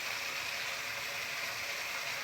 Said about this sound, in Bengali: তো এবারে এতে আমি জল দেব।